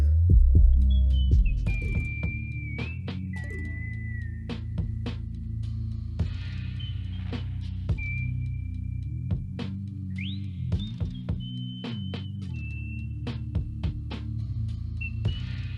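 Electronic music mix with a punchy kick drum and a deep sub bass, no sidechaining, so the bass stays constant under repeated kick hits, with sustained synth tones and pitch glides above.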